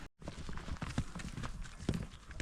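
Horses walk at an unhurried pace, hooves clip-clopping on a mountain track in the Georgian Caucasus near the Holy Trinity church, the irregular clopping fairly close and steady under outdoor ambience.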